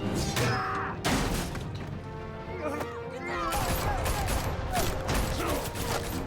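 Chaotic gunfire in Telltale's Batman bursts through a busy, dense scene of crashes and mechanical clatter, with shouting voices mixed throughout.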